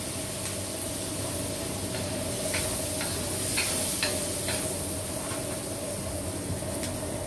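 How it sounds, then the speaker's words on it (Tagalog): Onion fries in a pan with soy sauce, sizzling steadily while a utensil stirs and scrapes now and then, the hiss close and continuous with no talking. "Hintayin natin maluto ang onion."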